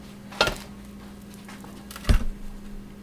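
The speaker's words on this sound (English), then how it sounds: "So we'll just grab a frying pan." A frying pan is picked up and handled in a kitchen where cornmeal-coated bacon is being prepared, giving two brief metallic clanks about a second and a half apart over a low steady hum.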